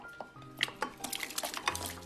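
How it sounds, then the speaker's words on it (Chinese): Chopped pear and sugarcane pieces tumble into a pot of cold water, making a quick run of close clinks and knocks against the metal. "全部倒进去，冷水下锅。"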